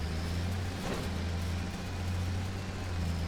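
Steady low idle of an old Ford tractor engine in Farming Simulator 25, a constant near rumble with a brief rise in the middle and no talk.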